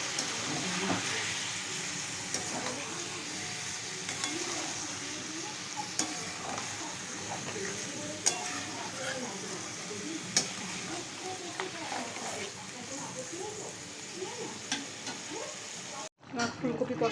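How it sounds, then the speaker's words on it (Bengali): Cauliflower and potato curry sautés in a pan, a continuous gentle sizzle with frequent soft stirring scrapes and occasional light clicks over the whole stretch. "আমার ফুলকপি কষাটা হয়ে এসছে"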